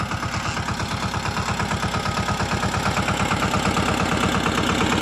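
A tractor engine runs on a village farm during field preparation, a steady, close, low chugging throb that continues evenly throughout with no talk.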